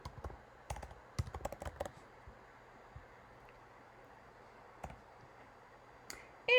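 A computer keyboard used to enter a book title in a library catalog search: a quick burst of light key clicks early on, then a few isolated taps against a quiet room background.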